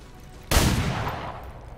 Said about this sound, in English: it was bad shooting on his side